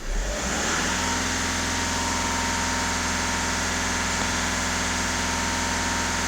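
A Volkswagen Caddy 1.6 TDI diesel engine starts and settles into a steady idle, its low rhythmic clatter and hum continuous and close, with no talk.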